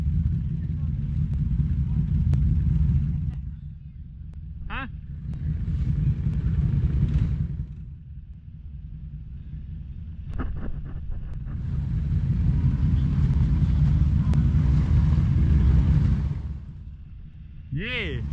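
A Can-Am Renegade ATV engine rumbles loudly while riding through swamp at an ATV park. The deep drone surges and eases in long swells, with brief shouting voices over it and gusts of wind noise.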